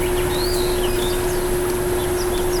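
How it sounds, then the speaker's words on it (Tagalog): Birds chirp and whistle in short scattered calls under trees in a breezy countryside spot, faint over a steady loud hum and wind noise. "Marinig na tayo mga huni ng mga ibon."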